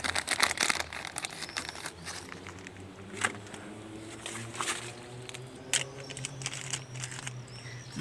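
Plastic bag crinkling in bursts, loudest at the start, with scattered rustles and crackles over a steady low hum.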